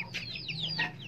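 Aseel chickens and chicks cluck and peep close by, a short run of soft clucks with high chirps layered over a quiet background.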